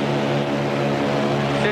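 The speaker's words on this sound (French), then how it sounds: "toute la puissance de ce bombardier américain libéré d'un coup pour" An American B-25 bomber's propeller engines run at full takeoff power, a loud, steady, droning roar with strong harmonic hum, continuous and close, with a voice talking over it.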